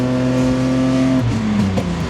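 BMW E46 accelerating hard, its engine loud and close with a rising tone that shifts sharply partway through, like a gear change, and no voices over it.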